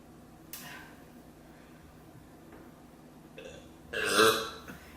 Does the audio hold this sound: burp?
yes